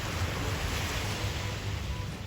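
Waves wash in a continuous, full roar, mixed with wind buffeting the microphone. Steady and fairly loud, with no voices.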